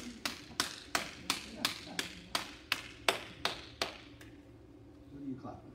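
About a dozen evenly spaced claps sound close and crisp, a single pair of hands rather than a crowd, slowing slightly before stopping, followed by faint rustling.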